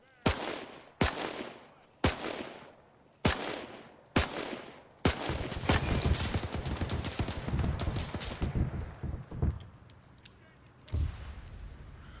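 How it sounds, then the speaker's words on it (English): Mortar rounds and gunfire in the video game Iron Front: six loud, evenly spaced booming shots, then a dense stretch of rattling fire and scattered impacts that thins out toward the end. "I hear mortars."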